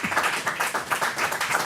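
A small group of people clapping their hands in a steady, rhythmic beat, close and fairly loud, with no talk over it.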